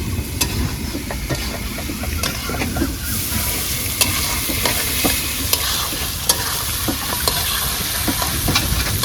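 Pork stirred in a pot with salt and turmeric, on a rainy day, gives a steady close sizzle of frying. Sharp scrapes and clicks from the stirring utensil break in every second or so, and no one speaks.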